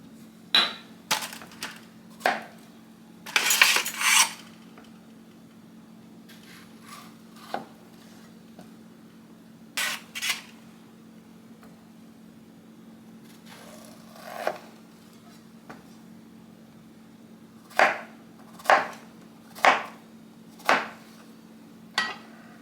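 Knife slicing two out-of-season zucchini into half moons on a cutting board, a series of sharp clicking chops in irregular bursts, some quick clusters and scattered single cuts, close and fairly quiet with no talk.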